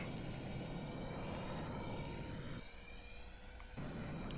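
A loud aircraft roars in the game Aeronautica, a continuous dense engine drone that dips briefly in the middle and then swells back.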